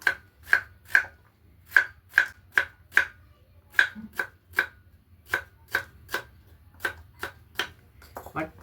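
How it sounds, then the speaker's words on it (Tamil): A knife chops bitter gourd into round slices on a cutting board, sharp crisp knocks landing one after another in an uneven rhythm with short gaps, close and clear against a quiet low background hum. "வட்டமாக வெட்டிட்டு வட்ட வட்டமாக வெட்டிட்டு"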